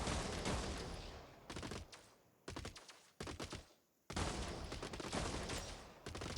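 Robot snipers and assault bots trade fire in the Gladiabots video game: dense bursts of rapid gunshots separated by short pauses, crisp but fairly quiet, with no talk.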